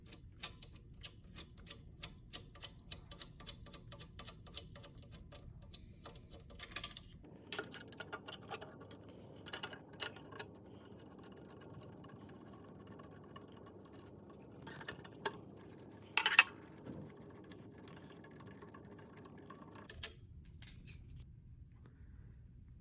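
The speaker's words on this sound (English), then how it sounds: "take out the 4 bolts that hold the motor in" Four bolts holding a hydraulic motor in a hydraulic kit are loosened and removed, giving faint, scattered ticks, ratchet clicks and light metallic taps with quiet gaps between them.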